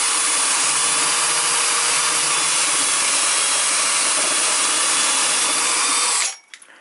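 A power drill runs steadily with a 5mm bit, boring through a custom media unit in a games room. The whine is loud and close and continuous for about six seconds, then cuts off abruptly, leaving near silence.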